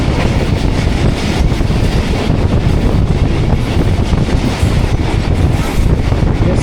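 The Rehman Baba Express runs along the tracks at Chak Jhumra Junction, a loud close continuous roar of wheels and carriages with rapid rhythmic clatter and wind buffeting throughout.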